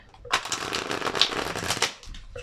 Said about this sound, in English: just shuffle the shit out of them